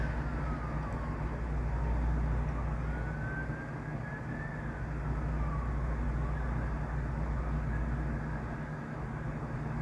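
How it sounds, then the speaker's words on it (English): Emergency vehicle sirens wail faintly in the distance over a steady low rumble of traffic and outdoor noise. "You hear the sirens? You hear that in the background?"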